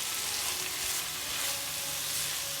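Karela (bitter gourd) pieces with brown sugar frying in a pan on high heat, a steady, dense, close sizzle with no talk.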